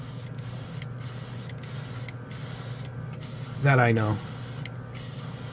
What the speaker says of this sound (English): The airbrush and the paint from Street Blisters.